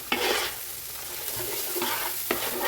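Garam masala is stirred into chicken biryani cooking in oil in a pot, with a steady near sizzle broken by several sharp scraping stirs of a spoon.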